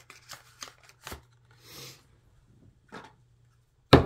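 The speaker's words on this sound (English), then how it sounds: "Let's get the hidden truth cards out here." Tarot-style cards being shuffled, with several quick riffling bursts and soft slides in uneven rhythm, close and clear, ending in a sharp thump, with no talking.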